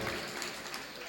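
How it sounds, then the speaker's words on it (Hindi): Brief, fairly soft applause from attendees at a Jain temple consecration ceremony, with scattered clapping blending into a murmur of voices. "ऐसे बाबूजी के लिए जोरदार तालियां"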